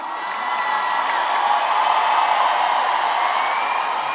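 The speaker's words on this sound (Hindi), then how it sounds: "आओ दुरेश साहब के लिए तालियां" A large crowd at the 8th Kashmir HUM Awards 2023 ceremony cheers and whoops for Duresh sahab, with applause underneath, forming a steady loud roar of many voices that holds for a few seconds.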